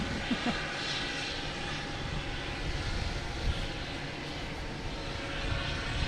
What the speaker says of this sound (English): We have Spirit in front of us, firing up its engines.